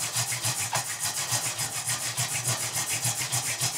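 Wooden hand drill spindle spun against a fireboard for friction fire, a rhythmic back-and-forth rubbing and grinding with steady, fairly loud strokes close by.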